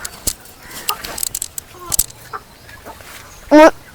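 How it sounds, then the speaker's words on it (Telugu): Hens and small chicks on a farmland plot in Rowthulapudi cluck and peep in short, irregular bursts close by, ending with one louder drawn-out call, with some human voices faintly in the mix. "అక్కడ చిన్న కోళ్ళు ఉన్నాయి. చిన్న కోళ్ళు మీరే చూడవచ్చు."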